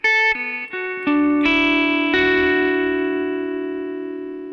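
Electric guitar with distortion plays a short fill from a song, plucking single notes in quick succession so they stack and ring out together, then sustain and slowly decay, loud and close.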